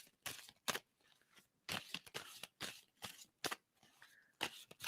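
Tarot cards shuffled close by in a series of quick, crisp riffling bursts with short pauses between them, no voices.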